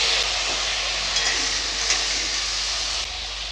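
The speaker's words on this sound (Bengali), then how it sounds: "আলুগুলো ভেজে নেব" Potatoes fry in oil in a pan with an even, moderate hiss that holds steady, then dips slightly near the end.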